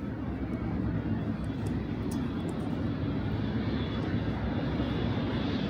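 Jet planes at Tokyo Haneda airport produce a constant broadband engine roar that stays steady and fairly distant throughout, with no clear voices on top.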